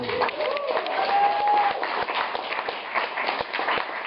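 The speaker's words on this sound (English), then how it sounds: "can I get a big round of applause for Mr. Shane Mansell?" A comedy club audience applauds comedian Shane Mansell with brisk, close clapping, a whistle rising briefly over the hands.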